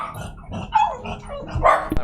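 A pet dog named Coco barks several times indoors, sharp close barks spaced through the moment with a louder burst near the end.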